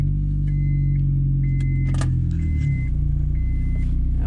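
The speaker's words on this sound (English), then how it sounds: "Excuse the sound, the muffler's broke," A 1997 Honda Accord with a broken muffler runs loud and steady, a heavy low exhaust rumble throughout with faint light jingles and clicks on top.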